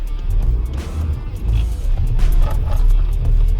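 Manual stick-shift car pulling away in first gear, its engine a close, steady low rumble with a slight rise as it moves off.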